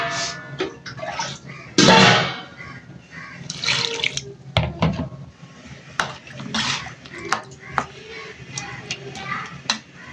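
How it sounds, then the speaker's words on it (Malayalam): Water splashes into a cooking pot holding spiced curry with chili powder and salt, in uneven pours and drips mixed with clattering pot sounds, close up. "കുറച്ച് വെള്ളം പാർന്നു കേട്ടോ."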